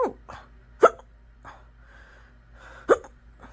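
A woman hiccups repeatedly, a few sharp, close, abrupt catches spaced irregularly, with faint breathy sounds in between and no talking.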